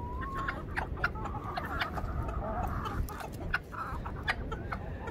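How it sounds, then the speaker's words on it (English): Chickens clucking close by while being fed old bread scraps, a busy scatter of short clucks and calls over soft outdoor background noise. "I just brought some old bread and stuff down for the chickens"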